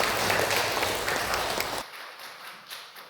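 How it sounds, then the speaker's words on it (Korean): A church congregation claps together after a choir's hymn, a busy rush of hand claps that drops off abruptly partway through, leaving faint scattered claps in a quiet hall. "우리 하나님께 다시 한번 영광의 박수를 올려드립니다."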